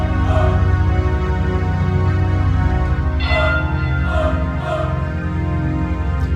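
Tubular bells ring out within an orchestral composition, several bright struck tones with long sustaining decay over a steady, loud sustained backing.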